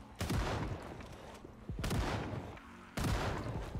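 Three heavy, booming gunshots in Project Zomboid, each a sharp blast with a short decaying tail, spaced about one and a half seconds apart and heard without any talk.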